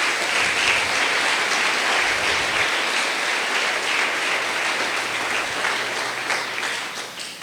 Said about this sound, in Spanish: Denle otro gran aplauso a nuestro Rey,